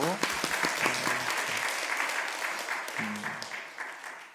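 A congregation at a Sunday morning service in Incheon Jungbu Church claps together in a dense burst of applause that gradually thins and fades, with a voice speaking over it.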